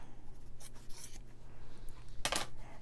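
Scissors snip through a strip of quilting fabric being cut in half for a banner hanging sleeve, giving a few close, crisp shearing cuts, the loudest near the end, over a low steady hum.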